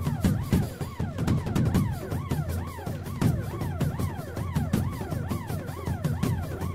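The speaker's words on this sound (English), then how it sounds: "I don't know if y'all can hear that over the sirens" Rapid, repeating electronic alarm sirens wail in loud, steady cycles inside the Hard Time prison simulator video game.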